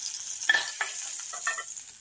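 Fish, Labeo bata, frying in oil in a pan, a soft continuous hiss with a few faint clinks and brief crackles, quiet and close, no voices.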